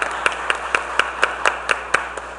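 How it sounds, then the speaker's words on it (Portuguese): Rhythmic, fairly close hand clapping repeats at a steady beat, roughly four claps per second, as an audience at a formal session applauds a capoeira group, with no talking over it. "Vamos aplaudir esses capoeiristas aí"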